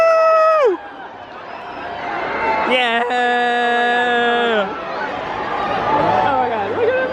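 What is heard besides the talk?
crowd cheering at Disneyland after joining boarding group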